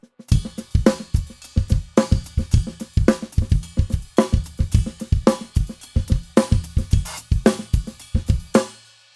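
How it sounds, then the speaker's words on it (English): A drum kit plays a steady groove with quiet ghost notes between the strokes and accents struck on the ride cymbal bell. The hits come close and loud in a repeating pattern, with no one talking. "So the accent's going to be on the bell"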